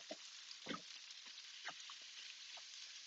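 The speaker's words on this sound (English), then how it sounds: "I'm going to stir fry those for a minute." Carrots and onions stir-fry in a pan for pancit, a faint, steady sizzle with a few soft clicks and scrapes from stirring scattered through it.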